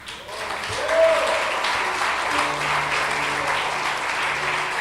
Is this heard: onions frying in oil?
no